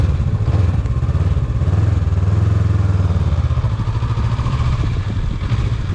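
A 2020 Honda CB500X motorcycle rides slow circles around a parking lot, its mid-pitched engine running loud and steady with slight rises and falls in revs, close to the listener.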